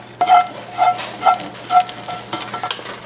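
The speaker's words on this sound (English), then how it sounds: "And now we're going to mix this up." A spoon works bolognese sauce into pasta in a pot, giving four or five soft wet scraping strokes in a loose rhythm, close and moderately loud with a faint sizzle beneath.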